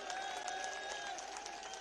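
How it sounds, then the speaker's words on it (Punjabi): Audience applause cheering a team at a Punjab political gathering, a steady wash of clapping with crowd noise, fairly distant and even throughout. "ਤਾੜੀਆਂ ਮਾਰ ਕੇ ਹੌਸਲਾ ਵਧਾ ਸਾਡੀ ਟੀਮ ਦਾ"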